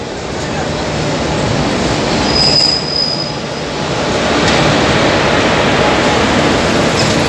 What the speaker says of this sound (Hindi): लालगढ़ डिब्रुगढ़ एक्सप्रेस